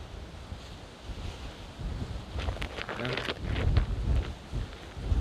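Wind gusts across an open cactus farm in Israel, a steady rushing buffet against the microphone that grows stronger toward the end, with faint voices underneath.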